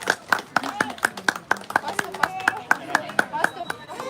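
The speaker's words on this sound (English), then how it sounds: "Give them big round of applause," A few people clap at a table tennis tournament award ceremony, with sparse, distinct claps in an uneven rhythm and voices talking over them.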